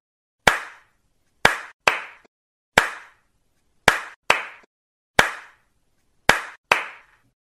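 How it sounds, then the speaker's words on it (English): Nine sharp, isolated hand claps ring out close and clear in a quiet room, grouped in an alternating one-then-two pattern with short pauses between groups. "I will clap for some time and you have to listen to my claps carefully."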